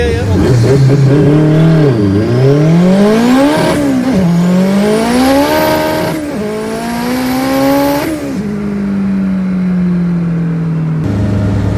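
AWD Honda Civic race car with a K-series engine and a FieldTech ECU accelerating hard under boost, loud and close from inside the cabin, revs climbing and dropping through several gear changes, with people talking over it.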